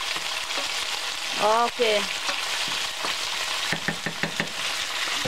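Beef and bell pepper stir fry, Filipino style, sizzling steadily in a pan, a continuous bright frying hiss with occasional stirring clatter; a voice speaks briefly over it.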